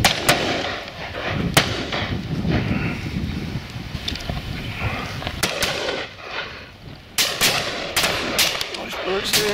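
Shotguns fire at partridges on a shoot, several sharp, loud reports spaced irregularly across the clip, some in quick pairs, against gusting wind noise on the microphone, with a few people talking between shots.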